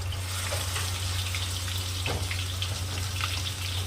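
Onion with ground masala paste sizzles in a pan for spicy mutton curry, a close continuous frying hiss with a brief scrape partway through and no voices.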